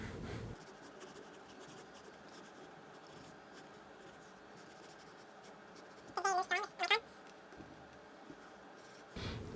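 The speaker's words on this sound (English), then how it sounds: "I just loosely, quickly draw them to practice drawing forms more loosely" Pencil on paper making quick, loose sketching strokes, a steady faint scratching across most of the span with a short burst of brighter, more vigorous strokes near the end.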